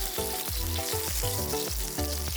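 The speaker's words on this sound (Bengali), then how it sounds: "এখন ভাজবো ফুলকপিগুলোকে।" Cauliflower pieces fry loudly in a mix of oil and ghee, a dense, continuous sizzle broken by regular rhythmic stirring strokes about twice a second.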